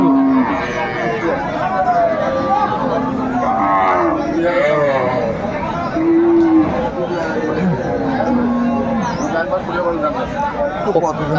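Cows and calves lowing at a cattle market, deep moos rising over constant chatter and nearby bargaining talk.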